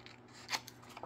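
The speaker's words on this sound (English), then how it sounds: "take your scissors and cut right where that score line intersects" Scissors snip paper along a score line for a mini album, a couple of faint close crisp cuts with a small crunch.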